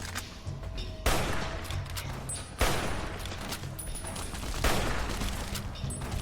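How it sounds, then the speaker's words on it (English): Hunting rifle gunshots in the video game Fallout: New Vegas, three sharp loud reports spaced about a second and a half apart, each trailing off over a background of in-game ambience and distant crackle. "the old hunting rifle"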